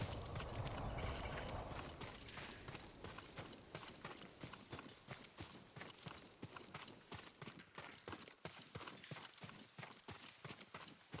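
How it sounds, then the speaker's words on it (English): Horse hooves clip-clop steadily in Ghost of Tsushima, a rhythmic run of sharp, evenly spaced hoofbeats that starts loud over a rushing wash and settles into a clear trotting pattern. "Yuriko's horse."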